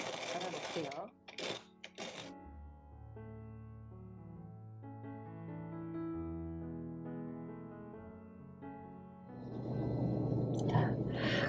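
About 12 grams of coffee beans are ground in a hand mill for home drip coffee. A few short, coarse grinding bursts open the stretch, music plays in the middle, and then louder, continuous crunching grinding takes over.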